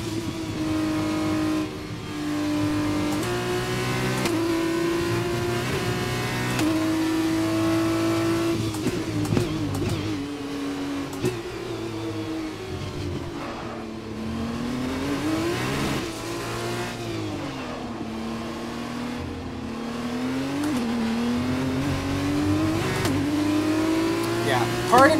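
An F1 race car engine in the F1 2021 video game wails at high pitch at Abu Dhabi, rising and falling through gear shifts across laps, steady and prominent while someone talks over it.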